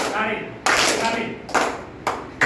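Sharp hand claps in a taali-khali rhythm game at a teacher training class for first and second grade lessons land in uneven bursts, with a voice calling out the pattern between them.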